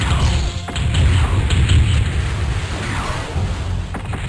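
An enemy mech blows up in MechWarrior 2: Mercenaries: a heavy, rumbling explosion with deep thuds and crashing debris, loud at first, then fading into a lingering low roar.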